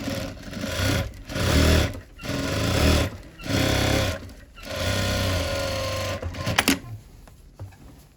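A sewing machine stitches a pattupavadai silk skirt in close, loud bursts: four or five runs of rapid mechanical whirring separated by short pauses, with a few clicks at the end.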